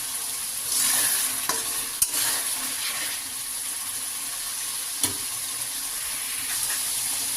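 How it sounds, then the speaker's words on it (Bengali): Spices frying and being stirred in a pan for chicken curry with potatoes, a steady bright sizzle punctuated by a few sharp utensil clacks against the pan, close and continuous with no talking. "আমি মশলাটাকে কষিয়ে নেব।"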